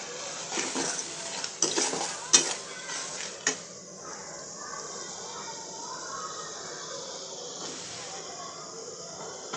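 Chopped tomato goes into a pan of frying masala, a few clattering scrapes and knocks of a spoon against the pan followed by a steady, close sizzling hiss.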